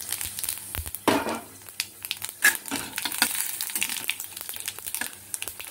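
Whole cumin, dried chili, bay leaf, cinnamon and cardamom frying in hot oil for a fish-head kalia, a close, steady crackle with sharper bursts of sizzle and a few clinks, no talking.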